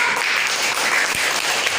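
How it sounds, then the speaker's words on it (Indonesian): Brief burst of classroom applause for a student group's presentation in a middle school class, many hands clapping closely together in a dense, even patter. "Kasih tepuk tangan dulu."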